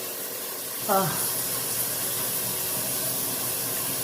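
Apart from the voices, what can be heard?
shower running, water spraying hard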